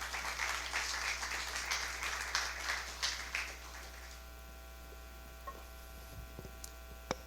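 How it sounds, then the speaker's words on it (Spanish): A church congregation applauds in a loud, fast patter that thins out after a few seconds, leaving a quiet room with a steady electrical hum and a few scattered taps. "Denle un fuerte aplauso al Señor."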